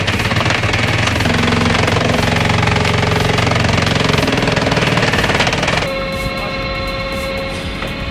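A JBM 80-ton log splitter with a side loader drives a 24-slice wedge through a 24-inch log: a loud, continuous, rattling engine and hydraulic drone that shifts into a steadier, tonal whine near the end.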